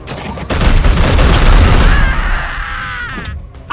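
Gunfire in the video game Warhammer 40k: Chaos Gate - Daemonhunters, a loud burst of booming shots and rattling fire lasting a couple of seconds before fading into a ringing tail.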